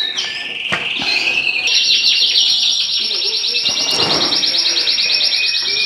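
Small pet hens kept in little cages inside a bird room chirp and tweet continuously at close range, a dense, high, steady chatter of overlapping calls with a few louder sharp notes near the start.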